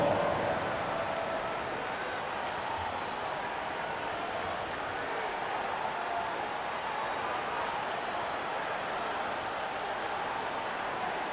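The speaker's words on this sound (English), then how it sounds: "Give them a round of applause" Dense, steady crowd applause fills an NBA arena at a Cleveland Cavaliers versus Miami Heat game, a continuous wash of clapping and murmur holding at an even level throughout.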